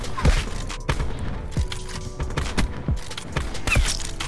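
Gunfire in the video game Call of Duty: Black Ops 4, a handful of sharp, punchy shots spaced out over a few seconds, loud and close, with a steady game ambience underneath and no talking.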